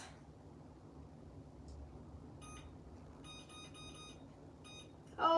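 A new kitchen stove's timer gives a few short electronic beeps while being set, in single tones and quick clusters over a quiet room hum, before a voice begins at the end.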